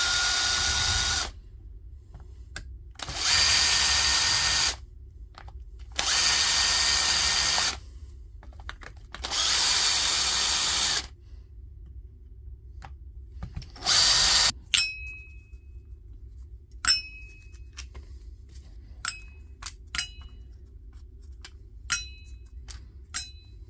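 An old Panasonic EY74A2 cordless drill runs in four bursts of a few seconds each, loud and close, with a shorter fifth burst, then small metallic clicks and taps as parts are handled.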